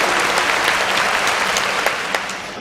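An audience at a Tamil debate event marking Kamaraj's birthday breaks into a dense, steady round of applause, loud and sustained throughout, with no talking.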